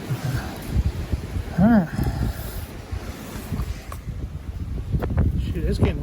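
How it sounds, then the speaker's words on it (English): Wind gusting outdoors during a sail panel rust repair on a 1966 Chevelle, a steady broadband rush with microphone buffeting, under brief nearby talk and some workshop handling noises. "it's getting windier"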